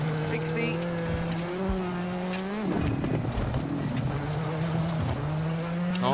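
Rally car engine in the WRC 7 video game, a steady droning engine note rising and dipping through gear changes over a gravel stage, with tire noise and a voice talking over it throughout.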